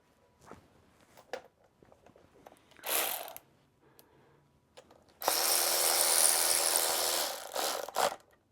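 Long bolts running through a vehicle frame into a plate are tightened with a tool: scattered clicks and clanks, a short whir, then a sustained loud mechanical whirring burst of a few seconds followed by a couple of sharp knocks.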